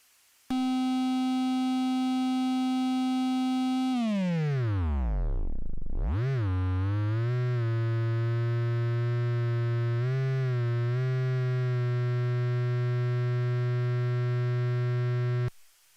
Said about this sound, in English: throw a sine wave into it